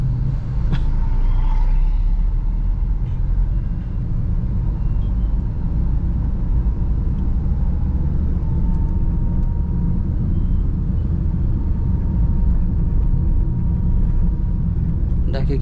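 A car in second gear crawls through heavy traffic, its engine a steady low rumble with road noise and faint surrounding vehicle sounds throughout, heard from inside the cabin.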